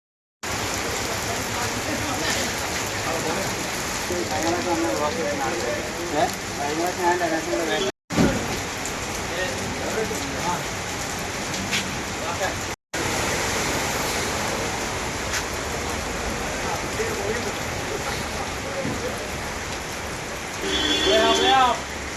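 Heavy summer rain pours over a flooded bus stand, a steady, dense hiss that runs unbroken except for two brief cuts and swells slightly louder near the end.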